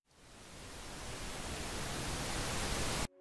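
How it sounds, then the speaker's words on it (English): Pink noise fades in over about a second, then holds as a dense, steady hiss weighted toward the low end, fairly loud and alone, before cutting off abruptly. "In pink noise, the amplitude decreases by half every time the frequency doubles, so more intense low frequency tones and softer high frequency tones."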